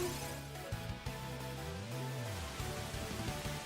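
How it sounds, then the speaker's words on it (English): Rain falls in the Pokemon Champions video game after the Rain Dance move, a steady hiss of rainfall laid under game music that runs continuously throughout. "The weather has changed to rain."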